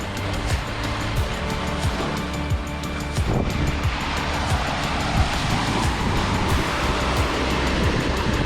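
Rough, whipped-up sea on the Sea of Cortez during a sailing crossing, with a dense roar of waves and wind buffeting the microphone, steady and loud throughout with occasional splashes.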